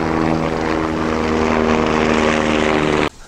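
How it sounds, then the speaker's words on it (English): A helicopter flies overhead above a summer vegetable garden with a loud, steady thrumming rotor drone that cuts off abruptly near the end. "We got a helicopter coming in, I do believe."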